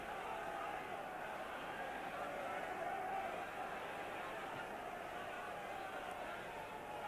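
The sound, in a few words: rugby stadium crowd din at Twickenham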